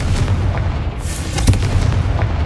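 A Confringo fire spell explodes in Hogwarts Legacy, a loud booming blast with a sharp burst near the middle over a steady rumbling low roar, no talk.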